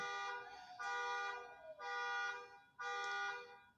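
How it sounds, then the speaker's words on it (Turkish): A broken car horn blares in three long, loud honks with short gaps between them, sounding stuck and harsh. "Bir korna bozuldu. Rahatsız edici bir ses var."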